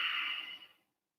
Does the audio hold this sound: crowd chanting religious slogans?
no